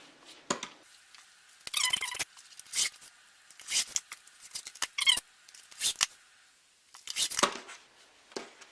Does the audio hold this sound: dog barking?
no